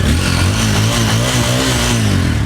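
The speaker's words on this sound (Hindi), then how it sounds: "साउंड सुनते हैं एक बार, गाड़ी को स्टार्ट कर लेते हैं।" A Bajaj Pulsar N250 250cc motorcycle runs loud and close, its deep, bassy exhaust burbling steadily with a slight rise in pitch as the throttle is blipped, with no talking.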